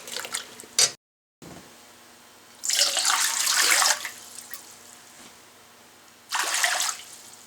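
Tap water runs into a measuring container for a fruit-preserving syrup, flowing in two bursts separated by a pause, fairly close and with no voices.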